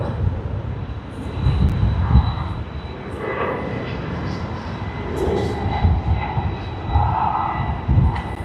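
A Qantas jet airliner, flight QF44 in from Denpasar, arrives at Sydney Airport, its engine roar rising and falling in broad surges over a steady background hum.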